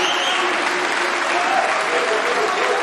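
Snooker crowd at the 2023 Champion of Champions semi-final, Mark Allen against John Higgins, breaking into sustained, even applause that fills the whole moment at steady loudness.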